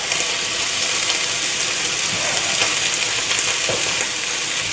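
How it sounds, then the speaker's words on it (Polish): Onion and garlic sizzle steadily as they hit browned meat in a pot for Hungarian goulash soup. The frying hiss is loud, close and continuous, with faint stirring scrapes. "Mięso już mam zrumienione, dokładam cebulę"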